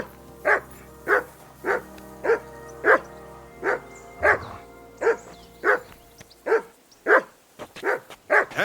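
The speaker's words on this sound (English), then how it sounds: "Whistle at that mutt of yours to stop barking!" A dog in the video game Kingdom Come: Deliverance II barks repeatedly at a steady rhythm, about a dozen sharp barks close by over a low background hum.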